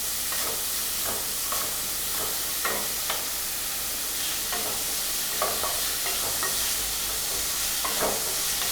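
Chopped onions and green chillies sauté with salt in a hot pan, giving a dense, steady sizzle with periodic scraping stirs, loud and close throughout.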